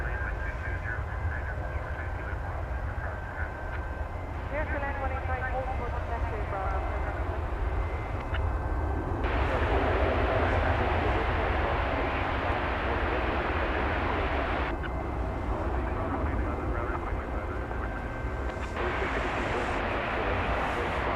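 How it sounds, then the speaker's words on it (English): Airbus A321 airliner arriving from Las Vegas at DFW Airport at night, a loud sustained engine roar that swells and shifts over the runway, with broadband jet noise dominating the whole stretch. "So arrival on Airbus A321 from Las Vegas, flight 2376."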